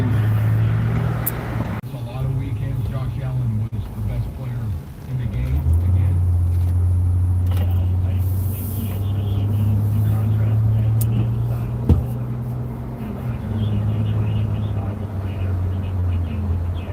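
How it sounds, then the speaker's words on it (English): Road traffic on a morning with school back in session: steady engine rumble and cars passing by, loud and continuous, with people talking throughout. "A little bit more traffic today, and that's because school is back in session."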